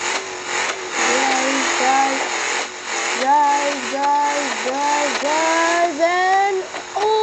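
Off-road car engine in the driving game BeamNG Drive, a mid-pitched motor steadily revving and shifting pitch up and down as the vehicle speeds along, loud and continuous throughout.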